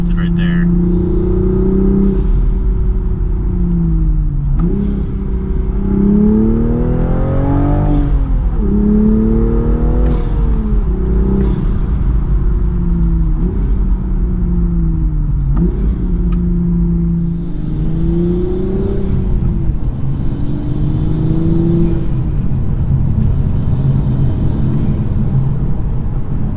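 A manual Toyota Supra fitted with an MST intake revs up and eases off repeatedly through the gears, its engine note rising and falling loudly and continuously from inside the car, with turbo whoosh mixed into the drone.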